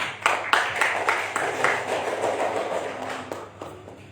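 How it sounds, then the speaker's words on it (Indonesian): Scattered audience clapping at the close of an Indonesian religious lecture evening, several sharp claps at first and then a softer, thinning patter that fades out. "Tepuk tangan dong"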